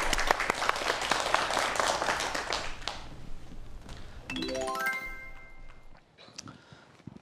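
Lecture audience applauding in a studio for an emergency-medicine talk, a burst of clapping for about three seconds that fades, followed by a rising chime-like tone and a few faint taps.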